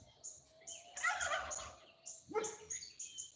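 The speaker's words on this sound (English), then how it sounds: "Turkeys are saying goodnight." Several wild turkeys gobble at sundown in open farm country, bursts of rattling calls coming in two loud clusters with quieter gaps between, at moderate distance and with no voices.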